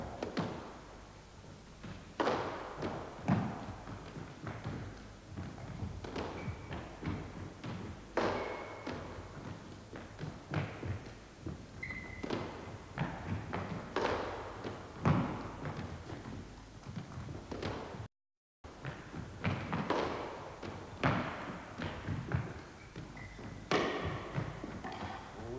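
Squash balls are struck with backhand, cross-court and drop shots on a 1970s court, producing a steady series of hollow thumps and smacks that echo around the enclosed room.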